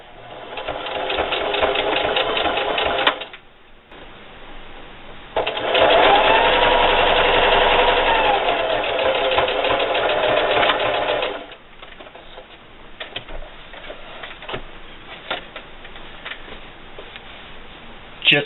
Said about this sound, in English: I'm going to backstitch at the beginning and the end and just sew this binding down